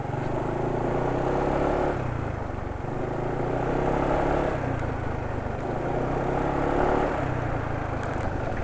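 A car engine runs steadily just after a change to Valvoline XLD 20W50 canned oil, a continuous mid-level hum with slight swells in revs, with no voices over it.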